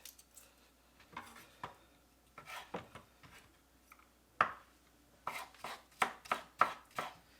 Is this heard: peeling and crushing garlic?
yes